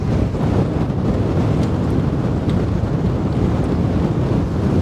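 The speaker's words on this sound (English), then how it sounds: "This wind is just brutal today." A strong wind buffets the microphone on a fishing trip, with a constant loud low roar and rumble lasting the whole few seconds and no voices.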